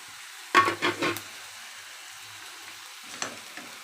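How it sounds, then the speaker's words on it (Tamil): Boiled drumstick leaves are stirred in a frying pan on low heat for a Tamil poriyal. A cluster of three scraping stirs comes close together, then a quiet gentle sizzle follows, with one more soft scrape near the end. "சேர்த்துட்டு நல்லா கிளறி விட்டுக்கலாம்"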